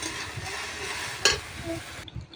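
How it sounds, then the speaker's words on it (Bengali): Onions fry in a kadai, a close, steady sizzle with a sharp scrape or knock of stirring midway, ending abruptly after about two seconds. "পেঁয়াজটা ভাজা ভাজা হয়েই আসছে আর কিছুক্ষণ একটু নাড়াচাড়া করে এরকম নামিয়ে নেবো"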